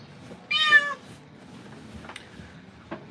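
A recently rescued cat meows once, loud and close, during a grooming bath, followed by faint scattered clicks and quiet background sounds.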